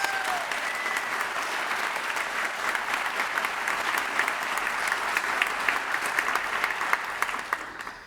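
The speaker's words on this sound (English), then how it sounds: "Please give them all a round of applause." An audience at a live stage show gives a sustained round of applause, a thick, even roar of many hands clapping with a few sharper nearby claps standing out.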